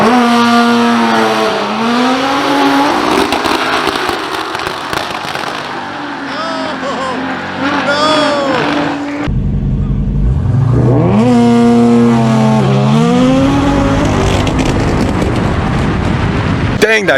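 Nissan GTR and Dodge Hellcat launching side by side at Greer Dragway, engines roaring loud and rising through gears with the GTR's tires spinning, a brief cut midway, then another surging engine pass as people talk and shout nearby.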